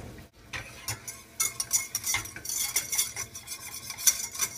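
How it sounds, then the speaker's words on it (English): A wire whisk scrapes and clinks quickly against a pan as flour is worked into melted butter for a soufflé base, a busy close rhythm of metallic strokes with no talk. "Get out your whisk."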